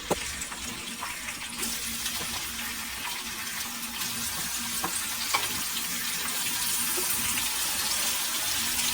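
Chopped onions sizzle in hot oil for a mutton kheema curry, a dense continuous hiss close by that builds slightly over time, with occasional stirring clicks and no talk.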